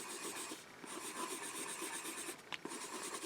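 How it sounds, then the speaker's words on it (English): A 2B pencil scratches steadily across paper, a soft continuous rubbing rasp with slight rhythmic strokes, close and quiet, with no voices. "I'm shutting up so you can hear the sound of the pencil."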